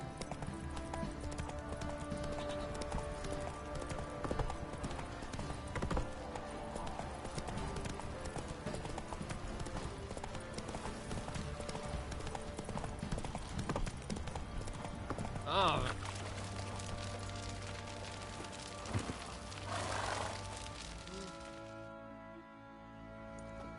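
Geralt's horse in the video game The Witcher 3 runs: steady clip-clop hoofbeats keep going under game ambience and background sounds, with a brief louder burst midway before they fade near the end.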